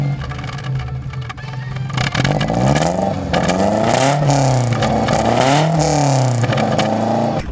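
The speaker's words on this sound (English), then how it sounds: "More noise from the front of the car than you do from the back of the car." A 1960 Alfa Romeo Giulietta Spider with a carburetted engine runs loud and close, revving up and down in smooth rising and falling sweeps with a steady mechanical clatter underneath.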